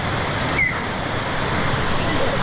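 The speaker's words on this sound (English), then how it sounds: "And now we're at this cool waterfall." A waterfall in Laos gives a steady, close rushing roar of falling water that fills the whole moment evenly with no break.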